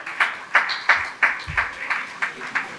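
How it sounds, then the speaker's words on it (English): Slow, scattered clapping with distinct individual claps about three times a second, fairly close and not very loud. "A round of applause for us again."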